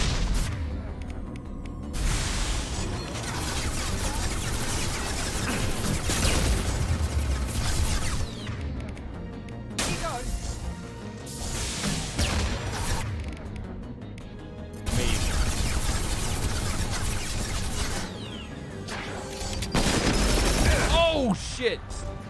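Combat in Mass Effect 2 with a thrown grenade: several loud booming blasts and bursts of gunfire recur across the stretch, separated by quieter lulls, with occasional talk over the noise.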